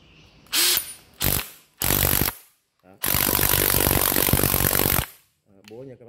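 A Makita 18V brushless cordless drill runs in hammer mode, first in three short loud bursts and then in one sustained rattling run of about two seconds, heard close up.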